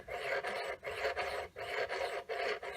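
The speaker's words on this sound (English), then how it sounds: "you'd just gently start to move the hacksaw back and forth like that, and you'll see it will cut the stone very quickly" A hacksaw cuts through stone in rhythmic back-and-forth strokes, about five raspy passes with brief pauses between them, close and fairly quiet.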